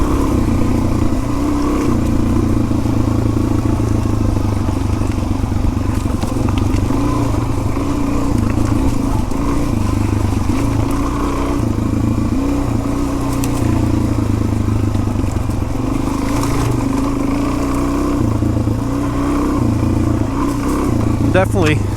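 A Tusk DSport dual-sport motorcycle on a downhill trail ride with large knobby tires, its engine droning steadily and loudly up close with rattling, clattering chassis noise throughout.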